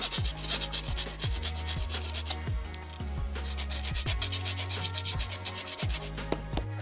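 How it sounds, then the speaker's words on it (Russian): A hand file rasps across metal in steady back-and-forth strokes, about a dozen gritty scrapes in a regular rhythm, close up. "Доводим напильником."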